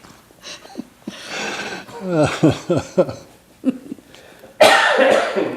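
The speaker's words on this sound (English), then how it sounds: "I had to hold that cough for a long time." A sharp cough bursts out near the end, loud and close, after a stretch of voices talking and a few throaty vocal noises.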